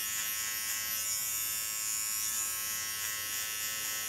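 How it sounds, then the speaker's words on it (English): Steady, close electric buzz of a hair clipper tip trimming the contour line of a bob haircut, running continuously without pause or talk. "Using only the tip of my clipper."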